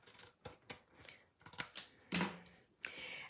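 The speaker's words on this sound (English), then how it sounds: "We're gonna go ahead and cut this on the line." Scissors snip through a card panel along a drawn line in a series of separate crisp cuts, close and fairly loud, with quiet pauses between the strokes.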